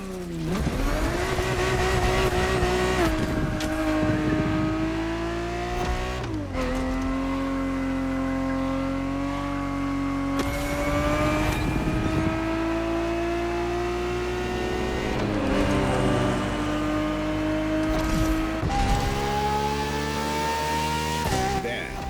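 A Ferrari 365 GTB4 from the 1970s howls through a racing video game lap, its engine note loud and continuous, climbing through revs with abrupt gear changes and occasional tire squeal.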